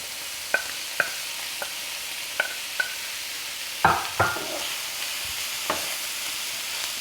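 Salami sizzles in a hot pan under a constant fry hiss, with sharp spatula scrapes and clacks against the pan at irregular intervals, close and clear.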